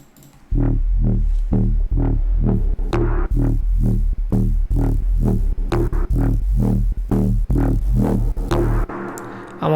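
A layered deep wub bass synth for drum and bass pulses in a steady rhythm of heavy, low, growling notes, loud and continuous with brief gaps between hits, ending with a short tail.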